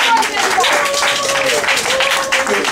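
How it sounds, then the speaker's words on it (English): Audience at an Irvington Public Library event applauding in a steady, dense wash of clapping with cheers and voices mixed in throughout. "Let's give a round of applause"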